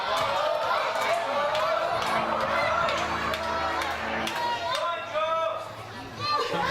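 A wrestling crowd at the W3L 7 Deadly Sins 2018 show roars and shouts with steady, dense cheering and overlapping voices, loud throughout and easing slightly near the end.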